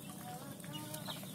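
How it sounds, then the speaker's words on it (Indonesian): Baby Muscovy ducklings feeding at breakfast time give soft, faint peeping and clucking calls, several small voices scattered over a steady low background. "Bebek serati makan pagi."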